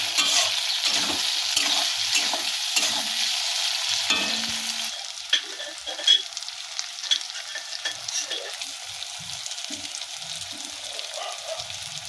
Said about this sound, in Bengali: চালটা কষানোর সময় যত ভালো কষাবে তত ভালো সেন্ট হবে